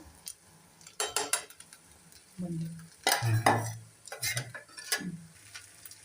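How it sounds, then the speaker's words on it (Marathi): Rice being stirred into a vegetable tempering in a pan, with scraping spoon strokes and light clatters coming in several close, intermittent bursts over a soft sizzle. "या फोडणीमध्ये चांगल्या प्रकारे मिक्स करून घ्यायचा आहे"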